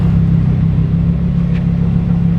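A Lamborghini Urus Performante engine rumbles in a steady, loud, close idle with a deep low drone and no voices.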